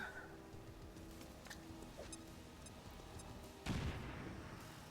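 A grenade blast in XCOM 2 Long War lands as one sudden loud boom near the end, after a few seconds of quieter game ambience and faint clicks.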